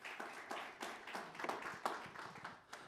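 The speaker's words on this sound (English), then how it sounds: "let's give them a round of applause" Audience at a digital marketing workshop gives a short burst of applause for the Google, UPS and NetElixir staff, scattered claps of modest loudness with no talk over them.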